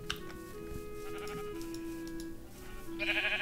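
A sheep in Minecraft gives a few short bleats over light background music and faint ticking, ending in a brighter, louder burst.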